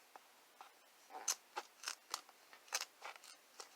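Tin snips cutting through a shoe while a skate bat is being built, giving a series of sharp, crisp snips and crunches at an uneven rhythm, close and fairly quiet, with no talking.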